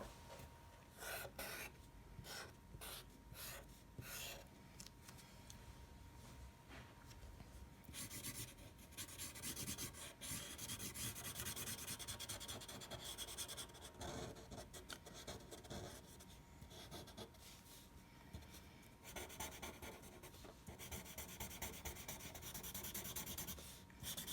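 A pencil drawing over outlines on paper produces continuous soft scratching and rubbing strokes, close and quiet, with short rapid strokes at first and longer steady passes later.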